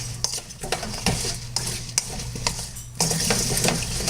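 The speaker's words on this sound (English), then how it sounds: "And then you just stir them all up, mix them up, make sure they get a good coating." Redskin potatoes being stirred in a bowl to coat them, a close run of rhythmic clattering scrapes and knocks of a utensil against the bowl, growing busier toward the end, with no talking.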